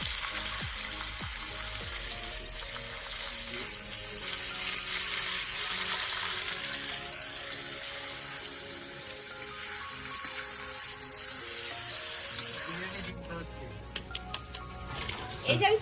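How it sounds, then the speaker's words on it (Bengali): Potatoes fry in oil as a crisp garnish for biryani at an outdoor picnic, a steady close hissing sizzle that carries for the whole stretch, with a few clatters near the end. "আলু দিলাম তেলে, এর জন্য বেরেস্তা বানাচ্ছি।"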